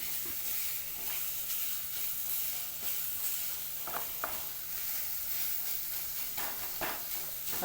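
Chopped carrots fry in hot oil for a North Karnataka vegetable upma, giving a constant close sizzle with occasional scraping stirs of a spatula against the pan.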